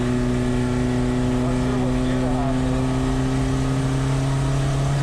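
A modified VW Jetta GLI Super Touring race car with a turbo engine held at full throttle at Thunder Hill Raceway, a loud, steady engine drone with strong sustained tones that rise slightly, heard from inside the car.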